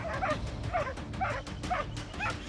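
Two big dogs barking and yelping at a porcupine during an attack, a rapid series of about six sharp, near barks in a fairly even rhythm over a rumbling background.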